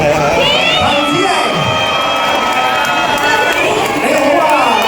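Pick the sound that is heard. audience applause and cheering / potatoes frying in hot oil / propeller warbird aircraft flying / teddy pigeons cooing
audience applause and cheering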